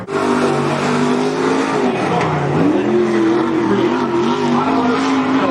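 The number 77 race car laps Cottage Grove Speedway, its engine holding a loud, steady roar with pitch dips and climbs as it brakes and accelerates through the turns, close to the microphone.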